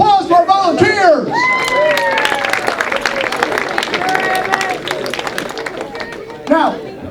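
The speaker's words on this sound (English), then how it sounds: "Let's give a round of applause for our volunteers." An audience at a college hypnotist show applauds volunteers, scattered clapping and cheers rising under a loud, excited voice at the start and fading out near the end.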